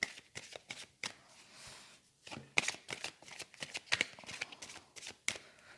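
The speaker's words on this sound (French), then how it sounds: "mes guides, s'il vous plaît, on va tirer quelques cartes du petit oracle de Steph." A deck of oracle cards shuffled and drawn at close range, with quick soft riffles and flicks interrupted by sharper individual card snaps and a short quiet gap.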